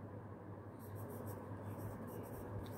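A pen scratching on paper while writing out a math word-problem answer, a quiet series of short rubbing strokes over a low steady room hum.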